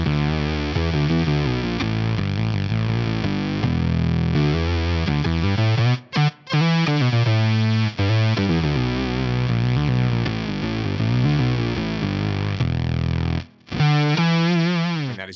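A fractal-style synth fuzz tone, built from detuned voices and a square wave with filtering, plays as a thick, distorted, chorused line that shifts pitch continuously. It cuts out briefly twice along the way.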